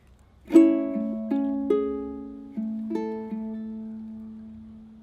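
Ukulele picks slow fingerstyle notes, about seven plucked notes, each ringing out and decaying, close and soft with no voice.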